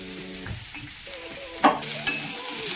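Mixed vegetables fry in a pan with a steady sizzle while being stirred, and two louder scraping clatters of the spatula stand out near the end.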